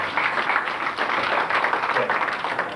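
An audience at a 1994 Daejeon cultural performance for the North-South human chain event gives steady, dense applause that holds at an even, moderately loud level throughout.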